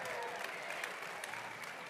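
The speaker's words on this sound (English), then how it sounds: "Everybody, round of applause for Matt Phippen, ride director." A live audience claps for a ride director at a route announcement event for a cross-state bicycle ride, producing a steady, moderately faint patter of many hands with no clear breaks.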